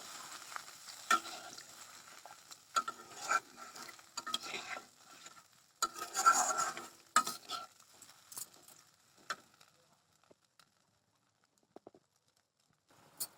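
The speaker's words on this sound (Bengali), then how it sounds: "এবার আমি এখানে জল দিয়ে দেবো পরিমাণ মতো জল দিয়ে দেবো" Water poured into frying spiced oil in a pan, then stirred: faint crackling sizzle with scraping spoon strokes in irregular bursts, fading to near quiet toward the end.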